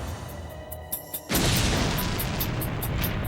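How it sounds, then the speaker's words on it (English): A package bomb blast: quiet background with a couple of small knocks, then a sudden loud burst that becomes a sustained roaring, crackling rumble. "The blast was so powerful, it threw Fowler"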